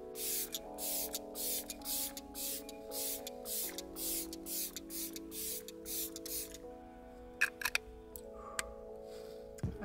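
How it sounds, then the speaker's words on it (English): Repeated short hissing bursts of a hydrating face mist spray, about a dozen quick evenly spaced pumps close to the microphone over soft background music, followed by a few faint clicks. "I would use this mist on my skin."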